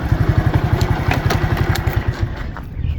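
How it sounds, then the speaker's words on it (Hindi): A motorcycle engine idles close by with a steady low chugging throb and a few clunks, as the bike is brought to a stop and parked on a paved village road. "इस जगह पे मोटरसाइकिल खड़ी कर देंगे।"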